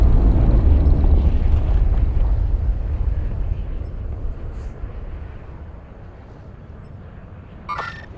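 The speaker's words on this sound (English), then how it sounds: "Cradle bomb has been detonated in the war zone." A cradle bomb detonates in Call of Duty Warzone, leaving a heavy, deep rumbling roar that starts loud and slowly fades over several seconds, with a faint sharp sound near the end.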